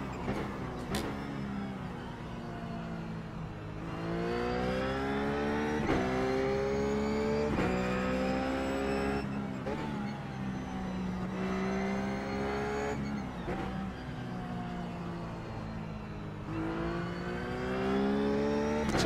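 A Ruf race car in iRacing at the Zandvoort circuit drives continuously near the listener, its engine rising in pitch through repeated upshifts and dropping on braking, with light tire noise and no talk.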